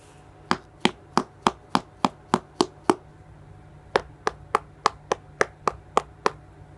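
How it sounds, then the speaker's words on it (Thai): Knuckle knocks on a Lhong Lap Lae durian to judge its ripeness: crisp, evenly spaced taps, about ten in a row, a short pause, then another steady run of about ten, close and clear over a quiet background. "ลูกนี้เวลาฟังเสียงเคาะแล้วนะคะ จะเป็นเสียงตันๆนะคะ ลองมาฟังเสียงค่ะ"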